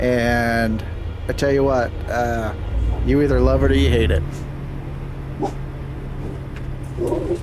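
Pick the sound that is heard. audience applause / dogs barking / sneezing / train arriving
dogs barking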